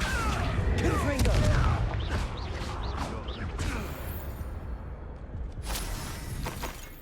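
Several Confringo blasting-spell explosions from the video game Hogwarts Legacy, sharp booms and crackling bursts with whooshes, loud and close in a rapid run, tapering into quieter blasts near the end.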